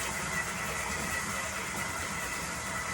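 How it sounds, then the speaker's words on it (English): A KitchenAid stand mixer whirs steadily at medium speed while creaming butter and sugar, a continuous motor hum and beater churn at close range with no talk. "We're going to go at about 4 to start on the KitchenAid mixer or whatever mixer you use."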